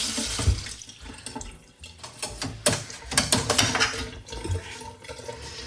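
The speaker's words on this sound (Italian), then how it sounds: "Adesso questo la portiamo sotto il rubinetto immediatamente" Water running from a kitchen tap over vincotto-soaked semolina being rinsed for a Sicilian sweet, a splashing, irregular flow with clinks and handling noises, close and fairly loud with no talk.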